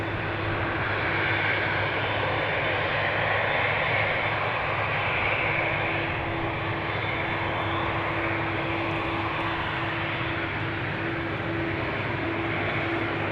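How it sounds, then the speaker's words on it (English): American Airlines Boeing 787-8 Dreamliner departing Amsterdam Schiphol's Polderbaan, a broad, steady engine roar with a constant low hum running through it, heard alone at moderate distance. "American Dreamliner going to Philadelphia. Flight 203. Boeing 7878."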